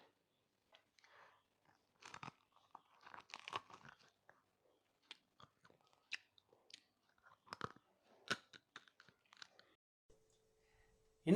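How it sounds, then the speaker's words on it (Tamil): Crunchy bites and chewing of homemade KFC-style fried chicken, a series of sharp, close crunches in irregular bursts with quiet gaps between them, no talking. "இப்போ வந்து நான் உங்களுக்கு சாப்பிட்டு காட்ட போகிறேன்."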